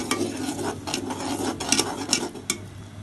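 Karahi masala with crushed chillies fries in ghee in a karahi, a raspy sizzle broken by repeated scraping strokes of a spoon against the metal pan.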